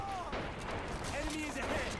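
Soldiers trade fire in a Men of War Assault Squad 2 battle at a river bank, a dense clatter of overlapping shots beneath shouted voice lines.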